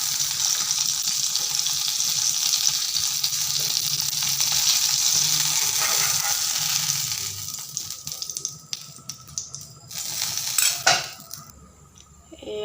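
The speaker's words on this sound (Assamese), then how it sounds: "এয়া মই গোটেইখিনি মাছ ভাজি লৈছোঁ।" Fish pieces frying in a home kitchen pan, a steady close sizzle with the clink of utensils and cookware, easing off in the last seconds as pots and spoons clatter.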